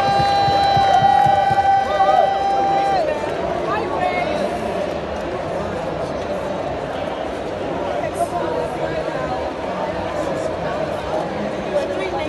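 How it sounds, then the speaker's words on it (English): A large crowd cheers and claps loudly, with a whistle or shrill tone early on and a constant roar of voices throughout. "Give Marty another round of applause."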